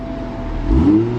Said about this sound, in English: he's gonna give you a couple revs just to let you guys hear how it sounds